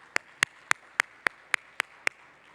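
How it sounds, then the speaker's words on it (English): Eight sharp, evenly spaced claps at a slow, steady beat ring out at a United Nations Big Data Forum in Trinidad and Tobago, fairly faint with no talk over them. "So please give them a round of applause."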